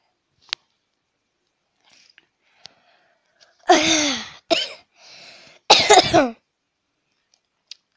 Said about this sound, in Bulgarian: Извинявайте, че кашлям пак